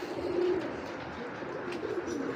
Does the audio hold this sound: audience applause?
no